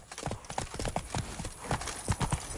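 Roach, Geralt's horse in The Witcher game, trots along with crisp, close hoofbeats in a steady clip-clop rhythm, with no voices over the steps.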